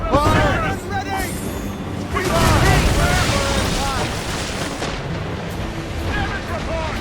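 Ship cannons boom in a naval battle in the video game Assassin's Creed Rogue, heavy blasts rolling out over a continuous roar of sea and wind, with crew voices shouting orders through the mix.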